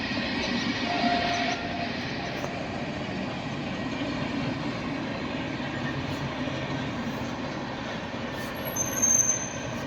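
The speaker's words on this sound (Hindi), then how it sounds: "सामने से ट्रेन आते हुए, भाई साहब ट्रेन की आवाज़" A train passes close by with a continuous loud rumble of rolling wheels and rattling railcars, steady throughout, with brief high-pitched wheel squeals near the start and end.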